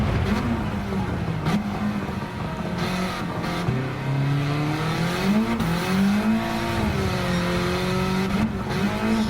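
Car engine on the Nürburgring in Gran Turismo 7, a loud low revving note that climbs and dips through gear shifts and cornering, with brief tyre noise and no voices.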